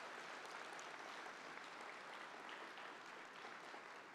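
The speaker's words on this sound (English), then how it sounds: "let's do a round of applause." Applause from a gala audience celebrating a university's 150th anniversary, continuous even clapping from a large crowd, heard faint and distant throughout.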